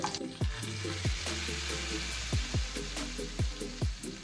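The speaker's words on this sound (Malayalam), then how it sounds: "വെളിച്ചെണ്ണയിലോട്ട് കടുക് പൊട്ടിച്ചു" Mustard seeds crackle and pop in hot coconut oil, sharp spluttering bursts at irregular intervals over a steady sizzle.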